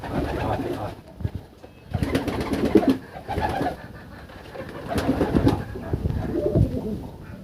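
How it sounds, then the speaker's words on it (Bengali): Pigeons coo inside a loft at a pigeon farm, the low throaty calls coming in repeated bursts from several birds close by, with short quieter gaps between them. "দেখেন কবুতর, দেখেন"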